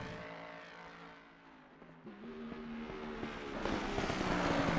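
A GT3 race car engine in a racing video game at Bathurst drones and shifts pitch, climbing to a louder, harsher roar toward the end, with no voices.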